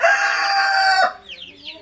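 A loud Brahma rooster crow fills most of the moment, followed by softer clucks and squawks from American Brahma chickens nearby.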